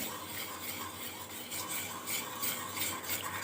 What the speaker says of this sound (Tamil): இந்த ஹீட்லேயே வச்சு கிண்டிக்கோங்க